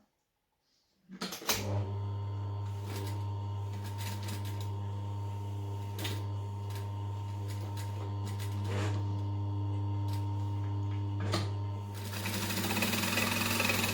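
A sewing machine runs steadily, stitching fabric along a line for a Sweet Pea pattern garment, a loud close whirring hum with rhythmic needle clatter after a brief quiet start, alone without speech.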